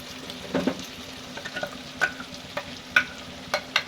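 Chicken gravy is stirred in a pan with a gentle sizzle underneath, while a spoon scrapes and knocks against the metal in about a dozen short, irregular strokes, all close by.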